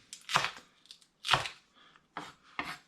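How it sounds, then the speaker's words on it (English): A knife chops chicken into pieces on a board, four sharp, separate cuts in an uneven rhythm, close and fairly loud, with no voices. "with each one I'm simply going to cut them down into pieces like so"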